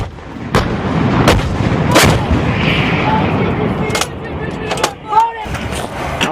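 Loud, sharp launch blasts from a HIMARS rocket launcher firing missiles in wartime, several cracking bangs over a rumbling roar outdoors, with shouted voices nearby.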